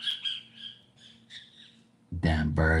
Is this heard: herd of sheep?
no